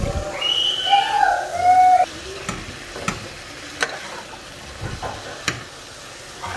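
Boiled chickpeas with masala and kasuri methi being stir-fried in a pan with some of their cooking water, giving a sizzle that is louder in the first two seconds and then a quieter fry broken by a few sharp utensil clinks.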